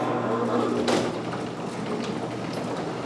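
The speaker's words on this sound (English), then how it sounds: "I don't think I've ever heard such a quiet garage door." Panels of a garage door for a horse barn glide in operation with a smooth, quiet rolling rumble and faint mechanical hum, one brief clunk partway through, steady and low.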